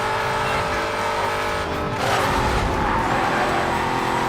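Muscle car engines roaring in a street race in Need for Speed Most Wanted, a loud continuous rumbling drone with shifting pitch and tire noise, no talking.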